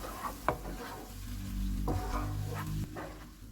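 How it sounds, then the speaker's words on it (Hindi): A spoon stirs tomato puree into frying onions and ginger-garlic paste for mash dal, making quiet wet scraping and a soft sizzle, with a few louder scrapes against the pan. "टमाटर की प्यूरी डालेंगे, इसको मिक्स करेंगे"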